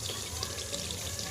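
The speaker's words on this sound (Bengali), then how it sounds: "ওই যে মশলা ধোয়া জলটা আছে ওটা আগে দিয়ে দাও" Spice-rinsing water poured from a bowl into meat cooking in a pot, a steady close splashing pour running without pause and with no talk.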